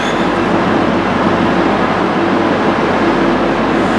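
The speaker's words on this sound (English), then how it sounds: "So yeah, that's our next train now." Steady, loud rumble of a train idling or rolling nearby, a continuous low mechanical drone with a faint hum, no voices.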